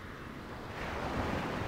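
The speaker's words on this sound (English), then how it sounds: "It's kind of relaxing, the sound of the waves." Ocean waves wash onto a sheltered beach in the video game Go Vacation, a soft continuous surf that swells slightly louder partway through, with no talking.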